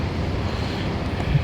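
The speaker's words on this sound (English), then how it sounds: "It's very windy" Strong wind roars steadily across an outdoor microphone near Canary Wharf, a broad buffeting rush with low rumbling gusts and no speech.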